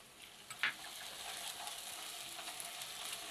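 Ginger garlic paste fries with golden-browned onions in a pan: a faint, soft sizzle with one sharp spoon tap near the start and light stirring scrapes after it.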